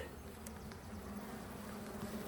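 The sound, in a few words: honey bees buzzing at the hive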